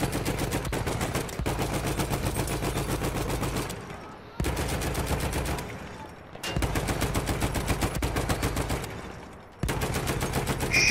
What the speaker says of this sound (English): Hell yeah, I'm on the machine gun killing it.